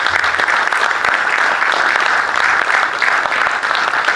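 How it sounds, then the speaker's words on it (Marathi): Sustained audience applause at a motivational speech event, dense and steady clapping filling the whole stretch at close, loud level. "सो एकदा टाळ्या होऊन जाऊ द्या त्या गोष्टी."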